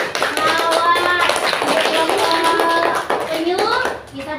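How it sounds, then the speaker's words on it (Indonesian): A third-grade class clapping together for a classmate group, close and lively hand claps under bright children's voices calling out. "Yuk, tepuk tangan buat kelompok mawar."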